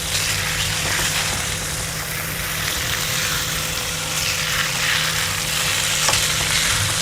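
Egg frying in oil with tomato, a steady, close sizzle and crackle that runs unbroken from start to finish with no voices over it.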